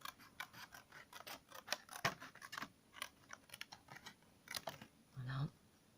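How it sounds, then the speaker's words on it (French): Scissors snip a strip from salvaged ATC cards in a quick run of sharp, close cuts, with irregular clicking crunches and brief pauses between them, ending in a short louder snip. "je vais venir couper une bande"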